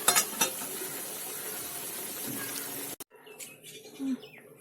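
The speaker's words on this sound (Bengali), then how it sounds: "আর একটু কড়া ভাজা হোক তাহলে বড়াগুলো একদম মুচমুচে হবে" Fritters deep fry in oil to crispness, a loud bubbling sizzle that stops abruptly and then gives way to quieter kitchen clatter and a faint voice.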